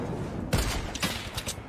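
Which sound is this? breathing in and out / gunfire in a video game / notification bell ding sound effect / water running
gunfire in a video game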